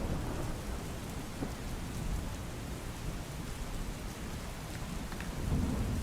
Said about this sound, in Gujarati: સવારથી ધોધમાર વરસાદ વરસી રહ્યો છે